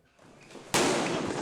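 One sharp, loud gunshot crack from a counter-terror drill bursts out after a quiet lead-in, followed by a lingering noisy echo.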